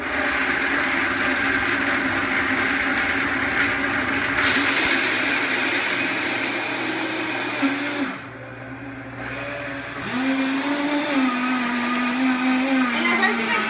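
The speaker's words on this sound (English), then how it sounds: "I'm going to turn the Vitamix on" Vitamix blender grinding a cup of nixtamal into masa, a loud continuous whirring roar that briefly dips and shifts pitch as the motor speed changes.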